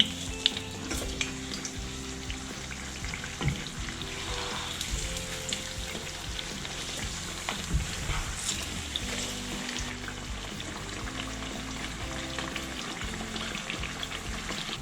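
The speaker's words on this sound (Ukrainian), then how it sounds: "З однієї сторони бачимо вже чебуреки підсмажилися, пригортаємо на другу." Meatless chebureki fry in a pan of hot oil, giving off a continuous bubbling sizzle with small pops, steady and close throughout.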